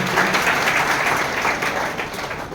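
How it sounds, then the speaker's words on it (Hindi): Audience at a Constitution Day celebration applauds to welcome a guest judge, a thick, continuous wash of clapping from many hands, steady and moderately loud. "एक बार जोरदार ताली के साथ स्वागत करेंगे"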